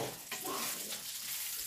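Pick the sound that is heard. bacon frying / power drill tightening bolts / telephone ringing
bacon frying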